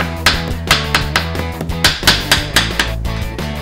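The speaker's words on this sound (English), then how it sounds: "So even though it's a pounding sound, it's really like a noisy, isn't it?" Pork being pounded flat for Korean-style tonkatsu (donkkaseu), a steady series of close, loud thumps about three per second over a kitchen background.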